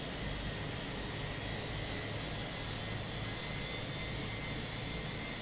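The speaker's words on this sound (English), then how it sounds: "I love the noises of this, the sound of this plane." Steady, loud jet engine roar from a Fenix A319 airliner in MSFS 2024, a dense broadband rumble with deep bass and a high whine holding evenly throughout, alone without talk.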